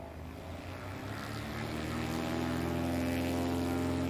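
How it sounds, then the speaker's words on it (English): A propeller-driven STOL airplane at a short-takeoff competition in Pinedale, Wyoming, its engine drone steadily building in loudness and pitch as it accelerates, with a strong steady tone throughout. "Going to get that aircraft up to speed."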